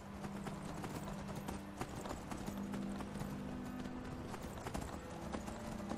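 Horse hooves clip-clop in Skyrim, a steady rhythmic walking gait heard at moderate distance over a soft game ambience, with no talk during it.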